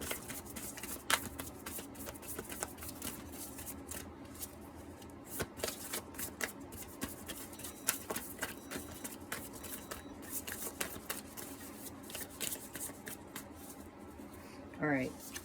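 Tarot cards being shuffled by hand in a quiet room, a steady run of soft riffling and flicking close by that continues throughout, with a brief sharper flutter of cards near the end.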